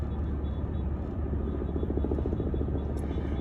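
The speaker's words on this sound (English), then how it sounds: "That's why all those helicopters have been up there." Helicopters flying overhead at an outdoor street gathering, a steady low rumble with faint rhythmic rotor chop, distant and continuous.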